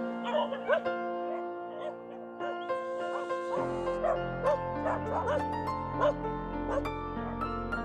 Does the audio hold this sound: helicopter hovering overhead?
no